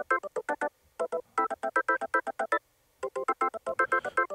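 A synthesized house organ part recreating a song plays alone, short punchy chord stabs in a syncopated rhythm with brief gaps, bright and clean with lows trimmed.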